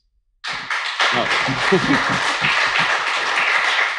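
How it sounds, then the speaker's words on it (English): Applause from a live audience at a music festival interview session, starting abruptly after a brief silence and holding as a dense, steady clatter of clapping, with a voice talking briefly over it early on. "Round of applause, please"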